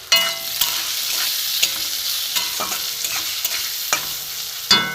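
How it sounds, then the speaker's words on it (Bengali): A utensil scrapes and clacks repeatedly through a pan of mangoes frying with turmeric, the sizzle steady beneath the irregular stirring strokes. "আমি এটাকে নাড়বো ভালো করে"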